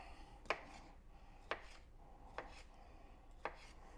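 A knife cuts through smoked sausage from South Georgia on a board, four crisp chops spaced about a second apart, close but quiet over a faint room hum.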